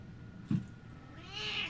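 A house cat meows indoors, a short faint call followed by a longer, higher, drawn-out meow, with low room noise underneath and no talking.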